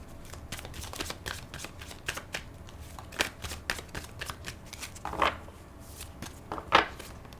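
Tarot guidance cards are shuffled by hand in a quiet room, a run of soft, rapid riffling flicks and taps that repeat unevenly, with a couple of louder snaps near the end.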